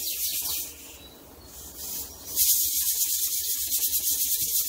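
A steady, loud hiss of steam from a pressure cooker runs throughout, with faint birdsong chirping in the background.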